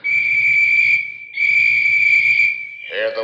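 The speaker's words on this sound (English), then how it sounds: "Hear the whistles, Delaney?" Two long, steady high-pitched whistle blasts sound in a 1961 suspense radio drama set around dynamiting through a mountain, loud and close with a short gap between, followed by a voice.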